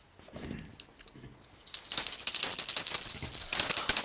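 Hand bell rung during an Aratrikam lamp offering, starting with a few soft isolated strikes and then settling into continuous bright, rapid ringing that grows louder toward the end.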